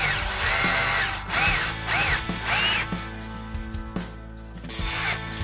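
Close power drill working a hole into a wooden guitar body, running in bursts with rising and falling whines as the bit bites and eases off, loud and near, with no talking.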